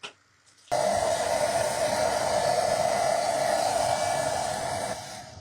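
A hair dryer blows on wet paint on a canvas, switching on after a short pause and roaring at a steady, close whoosh for several seconds before easing slightly at the end.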